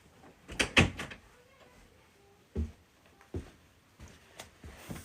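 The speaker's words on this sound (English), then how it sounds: "let me shut this door so y'all can hear me." A door is shut indoors, giving a cluster of close, sharp thumps and clatters near the start, then a few softer knocks and bumps spaced out over the following seconds.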